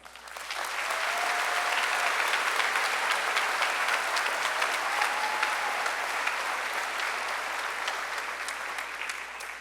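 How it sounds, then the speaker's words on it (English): Sustained applause from a large graduation audience of family, friends and classmates, a dense, steady wash of clapping that runs loud and even through the whole stretch, with a brief whistle or cheer rising above it. "Let's have a round of applause from the audience of family, friends, and your fellow classmates"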